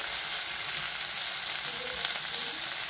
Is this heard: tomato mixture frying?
yes